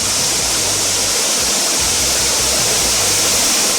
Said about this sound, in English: The waterfall is a beauty to behold.